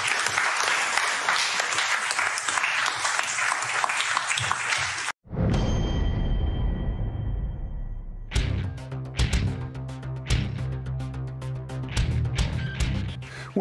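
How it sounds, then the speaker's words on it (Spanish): A studio audience gives a burst of applause for Rocío Nale, dense clapping that cuts off abruptly and gives way to a loud musical sting with sustained tones and rhythmic hits. "Un aplauso para Rocío Nale."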